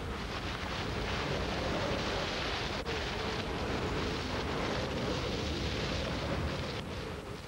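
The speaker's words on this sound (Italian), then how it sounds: "Mentre l'uragano si dirige a terra, la foresta comincia a sentire tutta la forza del vento." Hurricane-force wind roaring through a forest as the storm comes ashore, a dense, steady rushing hiss with no pauses, loud and even throughout.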